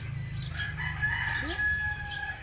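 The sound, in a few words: chicken clucking and rooster crowing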